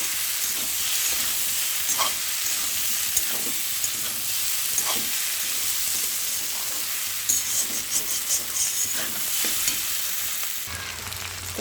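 Okra sautés in a pan for a prawn curry, a steady close sizzle with repeated scraping stirs and a few louder bursts near the end.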